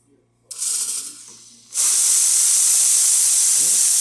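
A brief quieter hiss, then a loud, steady hiss from the steam wand of a La Marzocco Linea Micra espresso machine blasting continuously, close up.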